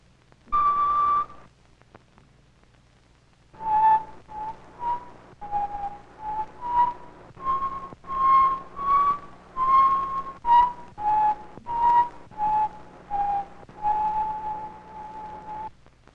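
A row of test tubes filled with different amounts of water sounds a melodic run of clear whistling tones, one long note, a pause, then many short pitched notes in quick succession.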